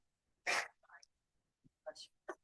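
A single sharp sneeze bursts out in a quiet school committee meeting room, followed by a couple of soft, faint sounds like breaths or murmurs.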